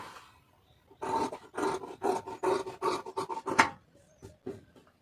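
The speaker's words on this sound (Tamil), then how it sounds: "இப்போ இதை அப்படியே கட் பண்ணிடலாம்" Scissors cut through blouse fabric in a run of rhythmic snips and rasps, close and fairly faint, then a few scattered cuts at the end.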